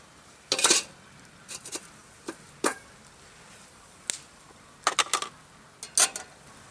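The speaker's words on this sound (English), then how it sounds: "I'm going to take off the wok and put the barbecue grill plate with the roasting rack on" Metal cookware clanks and clatters as a wok is lifted off a Cobb barbecue at a campsite and a barbecue grill plate and roasting rack are set in place, giving several sharp, separate knocks with quiet gaps between.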